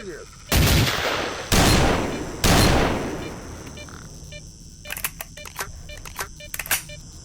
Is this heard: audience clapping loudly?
no